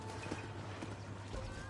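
Horse hooves clip-clop in Red Dead Redemption, a steady close patter of game footfalls over a constant low ambient hum, with a brief louder thump near the end.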